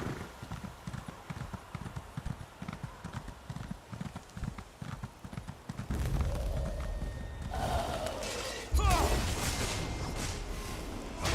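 Horse hooves clip-clop in a steady rhythm in the video game Elder Scrolls Online, then give way to louder clatter and crashing noises, with a brief whinny-like sound near the end.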